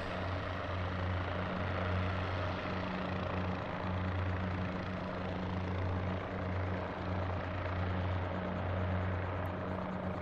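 Cabri helicopter in Microsoft Flight Simulator on a crop-spraying run over grapes, its rotor and engine making a steady, loud, continuous drone with a low rhythmic hum that holds unchanged from start to finish.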